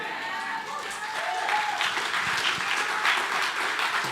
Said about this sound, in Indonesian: Beri tepuk tangan lagi untuk Tuhan kita.